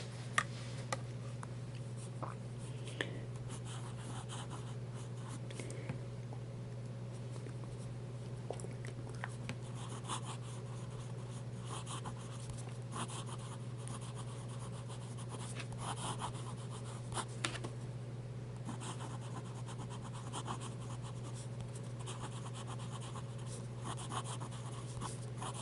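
Pen writing on paper as a pen is tested, giving faint, steady scratching over a constant low electrical hum for a long stretch, with no talking.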